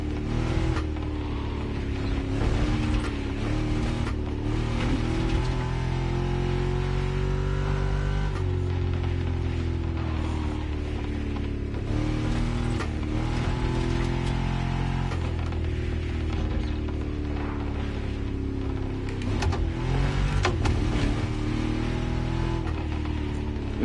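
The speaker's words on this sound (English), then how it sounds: "It almost sounded like it has a supercharger." A car engine drones loudly and continuously while driving, rising and falling in pitch through several accelerations and gear changes, close and with no talk.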